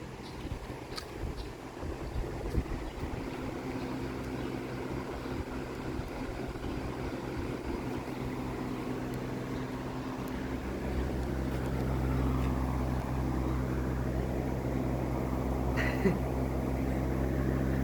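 A Westinghouse MobilAire 16-inch pedestal fan, model 16MA3, runs with steeply pitched blades, giving a steady low hum and broadband whoosh of moving air that grows a little louder and fuller partway through.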